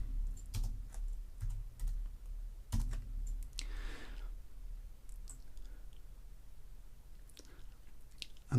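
Quiet tapping on a computer keyboard as a short title is typed, with irregular single key clicks and small bursts spread over several seconds, close and alone.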